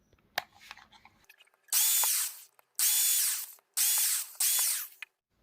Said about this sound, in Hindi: सबसे पहले हम लोग ड्रिल मशीन की सहायता से होल कर लेंगे